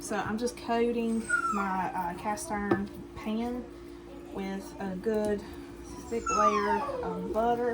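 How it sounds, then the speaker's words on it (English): A dog whimpers and whines in the background of a kitchen, yearning for ham on the counter, while a person talks steadily over it about coating a cast iron pan with butter. "You can hear my dog in the background still whimpering and whining because he wants some of the ham that's on the counter."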